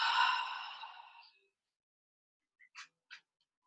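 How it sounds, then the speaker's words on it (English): A single long, soft exhale through an open mouth during a yoga breathing practice, fading out slowly, followed after a pause by a few brief, faint breathy sounds. "Open mouth, exhale, let it go."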